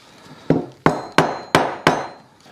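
Five sharp hammer blows drive pegs into wood while a shelf for firewood is being built, struck in a steady rhythm about a third of a second apart, each ringing briefly, close and loud.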